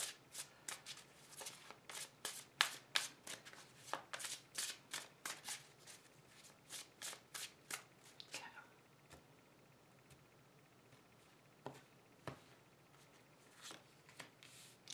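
Witches Tarot cards riffle-shuffled in a rapid run of crisp snapping flicks over the first eight seconds, then a few scattered taps and slides of the deck, close and clear with no talking.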